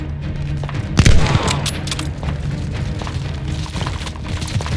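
Distant gunfire and a heavy boom from a firefight in Call of Duty: Vanguard's Operation Tonga, with a sharp impact near the start followed by a continuous low rumble of shooting.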